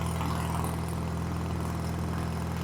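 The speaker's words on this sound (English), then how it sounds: "it's on low idle now. It's idling great" An Onan Performer 16 engine on a Lincoln Ranger 8 welder idles at low speed without choke after a carburetor clean, a steady, even drone with a constant low hum and no talking.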